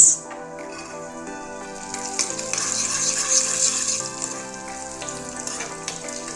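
Cashews frying in a tablespoon of ghee for makhana kheer, a bright continuous sizzle that swells midway and stays steady, close and clear with no talking.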